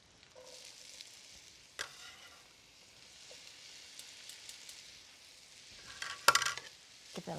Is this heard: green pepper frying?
yes